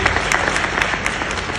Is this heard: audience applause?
yes